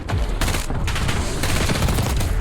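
FFAR 1 assault rifle firing in Black Ops 6 Season 4: sustained, loud, close automatic bursts rattle almost continuously, with brief gaps between strings of shots and no voices.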